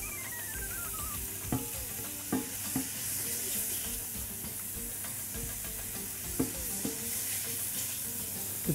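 Onion and chicken spices frying in a pan, a constant loud sizzle with repeated scraping and clacking strokes of a spoon as the mixture is turned.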